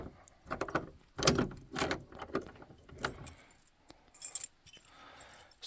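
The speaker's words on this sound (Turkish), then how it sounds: "Osmanlı anahtarıyla kapıyı açalım." Keys jangle as a large old Ottoman key unlocks a door in a village house in Tosya, Kastamonu: close metallic rattles and clicks come in several bursts, with short pauses between them and no talking.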